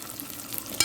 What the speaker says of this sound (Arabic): هنحط الشعريه كده نقلبها لحد ما تاخد لون جلد